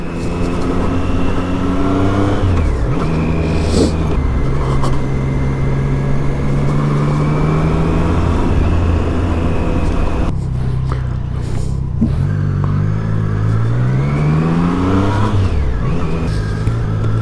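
A Triumph Street Triple 660S motorcycle engine revs repeatedly while riding, with loud rising and falling throttle sweeps over constant wind roar, heard close up from a mounted camera.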